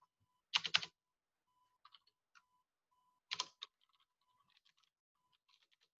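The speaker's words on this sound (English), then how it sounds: "and I can immediately start typing" Bursts of typing on a computer keyboard during a software text-tool demonstration, with two dense clusters of rapid key clicks separated by sparse, faint single taps, close and clear with no talking.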